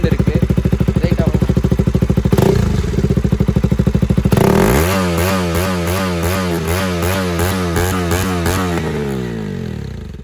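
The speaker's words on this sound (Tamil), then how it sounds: "அண்ட் நெக்ஸ்ட் இந்த பைக்கோட எக்ஸாஸ்ட் நோட்டை பற்றி பார்த்துடலாம்." Modified KTM Duke 200 BS6 motorcycle with its dB killer removed, first ticking over with a loud choppy idle, then revved hard into a sustained, rising exhaust roar that holds steady and close.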